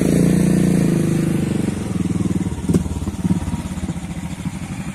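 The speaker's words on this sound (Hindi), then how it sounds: "ये देखिए हिमालयन बाइक आगे बढ़ेगा" A Himalayan motorcycle climbs a rough, broken mountain road in Lower Subansiri, Arunachal Pradesh, its engine thumping steadily and close by as the bike rolls forward.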